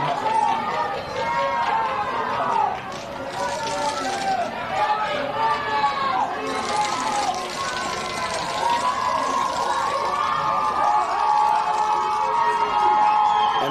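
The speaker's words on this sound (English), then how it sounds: "crowd is getting quite loud here for Clifton" Loud crowd at a varsity flag football game, Clifton fans roaring as the Ghosts try a late fourth-down drive, a dense wall of cheering and shouting that runs steadily throughout, with voices blended in and no single clear speaker.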